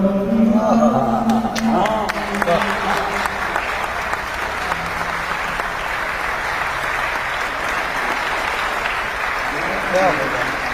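Audience applause after a nazm recitation in London, a dense steady wash of clapping across the whole stretch, with a few voices calling out near the start.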